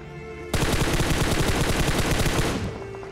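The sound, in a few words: gunfire in the video game BGMI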